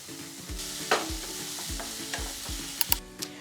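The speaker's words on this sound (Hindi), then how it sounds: "और जब तक हमारा मसाला भुन रहा है" Ground masala roasting in oil in a pan for paneer curry, stirred with a spoon in regular scraping strokes over a soft steady sizzle, with a few sharper clinks near the end.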